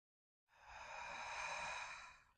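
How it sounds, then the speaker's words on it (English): One long, deep breath during a slow yoga flow, heard close and quiet as a smooth airy sigh that starts abruptly after silence and sustains evenly. "Let's go one more deep breath."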